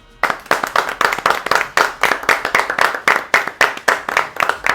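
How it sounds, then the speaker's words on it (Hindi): A small group claps in a steady, even rhythm, each sharp hand strike distinct and close, continuing for several seconds without talk. "तालियां तो बजाओ इसके लिए।"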